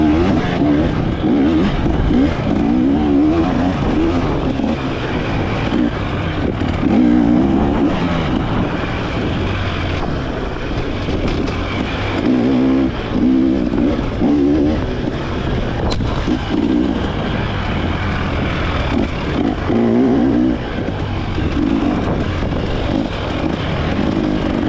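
A 2024 KTM XC-W dirt bike rides a hare scramble trail, its engine droning steadily and loudly throughout with rising and falling revs under heavy wind rush, no talk.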